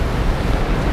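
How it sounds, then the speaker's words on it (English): Rough, fierce sea waves surge and break onto the shingle shore at Sandgate, Kent, a steady loud wash of surf with gusty wind buffeting the microphone and no talking. "the waves are pretty fierce coming in"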